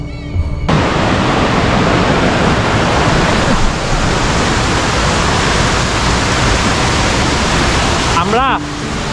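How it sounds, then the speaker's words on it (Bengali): Shoingong waterfall in the hills of Thanchi, Bangladesh, a loud, constant roar of rushing, crashing water heard up close, broad and unbroken throughout, with a short rising electronic chirp near the end. "আপনারা দেখতে পাচ্ছেন সৈঙ্গং ঝর্ণা"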